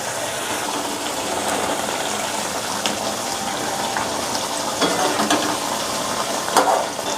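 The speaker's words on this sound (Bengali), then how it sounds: "এটা ভালোভাবে ফুটতে শুরু করেছে। এবার এর মধ্যে দিয়ে দেব ডিম আর আলুগুলো।" Eggs and potatoes dropped into a boiling Bengali dahi egg curry, giving a steady bubbling, sizzling wash with a few soft splashes and clatters, no voices.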